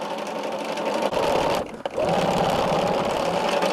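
A sewing machine runs steadily while stitching a row of a country-style quilt block, loud and close, pausing briefly in the middle before the whirring resumes with no one speaking.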